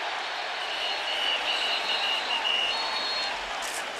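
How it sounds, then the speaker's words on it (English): A college football stadium crowd at an Oklahoma Sooners game roars in a continuous broad wash of noise, with a faint whistle-like tone on top. "The crowd louder than it's been for a while."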